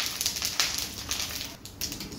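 Home-grown mustard seeds and curry leaves crackle and spit in hot oil for an upma premix, a close, steady sizzle with dense popping that runs throughout without any talking.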